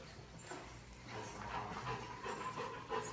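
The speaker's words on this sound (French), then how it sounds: "le chien-chien" A dog pants softly, with faint whimpering, in a quiet room during travel in western Guatemala; the breathing is low and close, with no voices.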